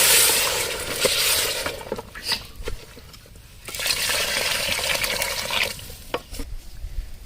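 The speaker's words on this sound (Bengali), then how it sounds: "এই যে আমাদের চাউল ভাজা কমপ্লিট, এখন পানি দিচ্ছি" Hot water poured into a pot of fried rice while cooking mutton kacchi biryani, a steady hissing, splashing pour in two long bursts with a short lull between, no voices.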